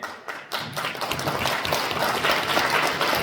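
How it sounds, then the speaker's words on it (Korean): A conference-hall audience at a government policy briefing in a Cheongju hotel claps in sustained, dense applause that builds after a few sharp opening claps and holds steady and fairly loud to the end. "박수 탁탁 쳐주시고 너무 감사합니다."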